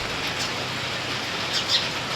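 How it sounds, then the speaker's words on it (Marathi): Steady rain falling at a bus stand on a wet day, a dense even hiss that fills the short stretch without pause, heard alone with no talking. "आज पाऊस खूप आहे, आज दिवसभर पाऊस पडतोय"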